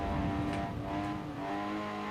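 A small Lotus sports car engine revving under race load in Forza Horizon 4, a steady, moderately loud buzzing drone with a slight rise in pitch, heard alone with no talk.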